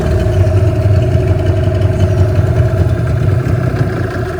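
A fishing boat's engine running steadily at sea, a loud, close, continuous throbbing drone with a constant low hum and no talk.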